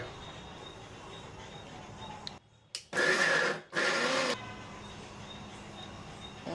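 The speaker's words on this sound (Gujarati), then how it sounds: "આ બધું આપણે છે ને મિક્સરમાં હારે ક્રશ કરી નાખવાનું છે" Mixer grinder crushing corn, carrot and tomato runs in two loud whirring bursts split by a brief pause, with quieter room noise before and after.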